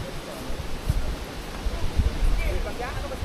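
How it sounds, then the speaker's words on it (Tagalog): Strong wind buffets the microphone in low, uneven gusts, with faint rustling and occasional voices underneath. "sobrang lakas ng hangin"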